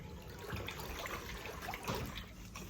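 Water trickles and splashes steadily as a mop cloth is soaked in a filled bucket at home, a soft continuous wet rush with a couple of brief louder sloshes.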